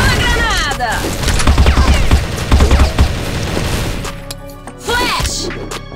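Grenade blast in a first-person shooter match with an M4A1 rifle, a loud booming crash among chaotic gunfire and impacts, with a voice talking over the action and another sharp burst near the end.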